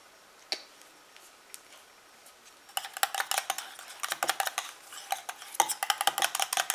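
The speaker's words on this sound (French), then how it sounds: "Et je mélange à nouveau." Homemade eye contour cream being stirred in a small container, a quiet stretch giving way to rapid clicking and scraping strokes that build to a steady, busy rhythm close by.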